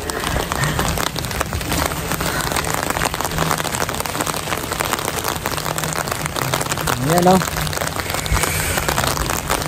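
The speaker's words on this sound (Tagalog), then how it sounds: "Ang lakas ng ulan." Heavy rain pours down in Smoky Lake, Alberta, a dense, steady close patter filling the whole stretch, with someone speaking briefly under it.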